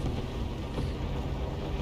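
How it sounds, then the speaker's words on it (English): A vehicle engine in the War Thunder or Arma 3 video game gives a steady, low, droning rumble that stays unbroken and fairly loud throughout, with no voices. "I hear engine noise."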